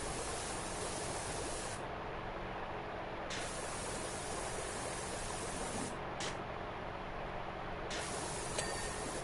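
A pressure washer in PowerWash Simulator blasts metal cleaner onto a necklace, a loud, steady hissing spray that cuts out and restarts a few times in short bursts.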